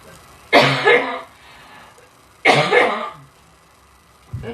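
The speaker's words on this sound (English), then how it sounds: "coughing fit." Two harsh bursts of coughing, each a rough double hack, separated by a pause, with a third cough just beginning at the end.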